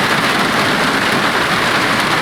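Heavy, steady rain on a car in a racing game drums densely on a hard surface, a loud continuous hiss of countless drops with no pauses.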